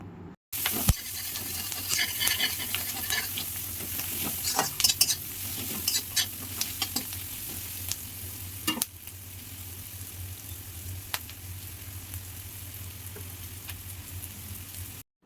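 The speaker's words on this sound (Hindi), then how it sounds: "तापरे दियाला प्याज आउ भल से टिके फ्राए करमा" Onion, then diced potato and pointed gourd fry in a pan for Odia-style fried rice, giving a steady sizzle with scraping stirs and occasional utensil clinks, close and continuous with no talk.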